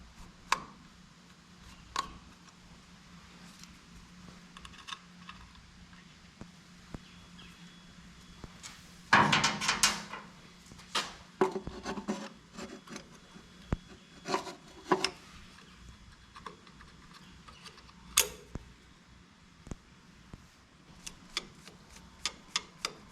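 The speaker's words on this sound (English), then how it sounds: "So we're gonna pop out the points and condenser" Ignition points and condenser being pried out of a Farmall 460 tractor's distributor: scattered small metallic clicks, taps and scraping rubs, with a louder cluster of rattling handling noise midway, close up and fairly quiet.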